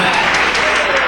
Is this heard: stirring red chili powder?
no